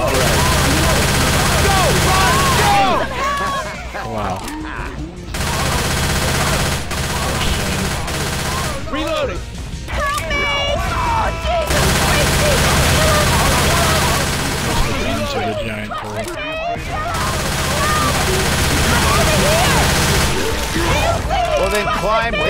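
Rapid bursts of gunfire in the video game Left 4 Dead as players shoot at the Tank, coming in loud repeated volleys separated by short lulls, while players talk throughout.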